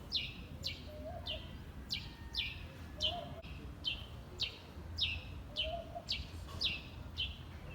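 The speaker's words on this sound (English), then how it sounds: "The bird sings for you" A countryside bird in Nigeria or Ghana repeats a bright, short chirping call about every half second, clear over a low rural background hum, with a few faint lower calls in between.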